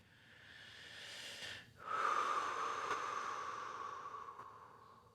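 Slow, close breathing during a Hatha yoga pose: a long, soft airy exhale, a brief pause, then another drawn-out breath fading gently, quiet and unhurried.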